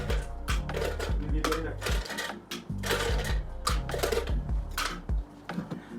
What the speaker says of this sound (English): Next up, add some ice.